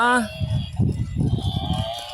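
A water buffalo in a park gives one loud, close moo that fades within a fraction of a second, followed by shuffling and movement noise, with no talking.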